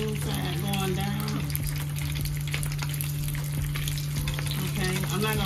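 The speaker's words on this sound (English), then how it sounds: "Okay, so we are going to cook these in a pan, shallow." Chicken taquitos shallow-frying in oil in a skillet give a steady, close sizzle and crackle, with a constant low hum underneath throughout.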